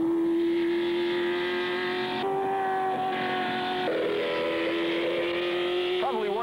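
A vintage race car shifts up and accelerates hard through a fast section of track, its engine a loud steady drone that steps in pitch at each gearchange, with a brief squeal near the end.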